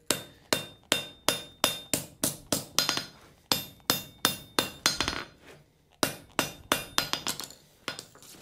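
Hammer striking forge-welded steel to straighten it: a run of sharp, ringing metallic blows in a steady rhythm, about two per second, close and clear, with a short pause partway through.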